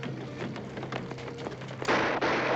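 A rapid string of sharp gunshots crackles in quick succession, ending in a louder burst of dense noise over a steady low hum.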